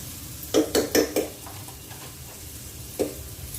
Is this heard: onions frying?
yes